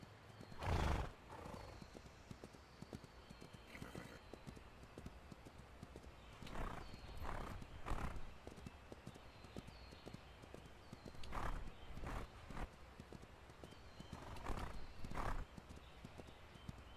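Horses in the Ranch of Rivershine video game clip-clop steadily and loudly while neighs and whinnies break in several times over the hoofbeats, with no talk.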